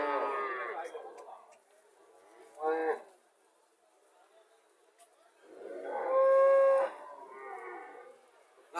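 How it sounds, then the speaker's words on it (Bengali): A Rani Shankar dairy cow at a cattle market in Cumilla lets out several drawn-out moos, one at the start, a short one, then a long loud one, with quiet gaps between. "রানী শঙ্কর গাভী"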